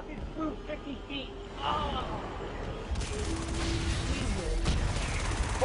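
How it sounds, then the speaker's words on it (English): Explosions and heavy gunfire in the video game Starhawk, rapid blasts and bursts piling up into a loud, continuous barrage after a quieter start, with a player talking over the chaos. "There's so many explosions."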